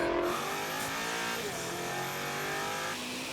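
A tuned 1000-plus horsepower BMW M5 accelerating hard in a drag race against a Ferrari SF90, a loud rising engine roar with gear-change steps and shifting pitch, heard alone without talk.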